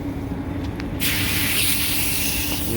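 A steady, loud hiss of a hose spraying water onto an air conditioner's evaporator coil starts abruptly after a second of low hum and continues without a break.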